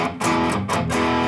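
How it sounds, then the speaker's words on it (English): An electric guitar played through an amplifier with moderate gain rings out as a loud, distorted rhythm sound, with two brief chord strikes and a sustained ringing chord, and no talk over it. "you can see that this is fairly distorted"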